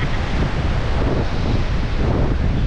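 Steady wind blows across a sunny beach on Boracay, a constant loud rushing roar buffeting the microphone with surf mixed in and no break throughout.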